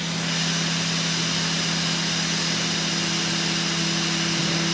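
A stepper motor drives a home-built CNC machine on its first run, giving a steady, even electric hum with sustained tonal whine, moving slowly and continuously with no voices.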